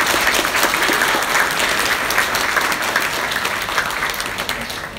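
An indoor audience at a spiritual gathering in Vladivostok breaks into a big round of applause, with dense, sustained clapping holding steady throughout and easing slightly at the close.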